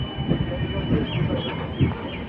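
North East Express train running between New Jalpaiguri and New Alipurduar, a steady rumbling roar with rhythmic clatter heard from inside, with a faint voice in the background.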